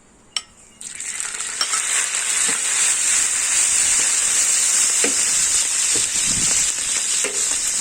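Shrimp dropped into a hot paella pan start frying with a sudden rise into a loud, steady sizzle that holds throughout, with occasional faint utensil taps, close by and no talking.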